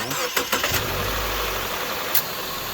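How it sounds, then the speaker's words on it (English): A Subaru car engine cranks and catches, a brief starter whir followed by a loud, steady idle that settles into an even hum, close by with no talking. "Now I'm going to ask her to start the car up."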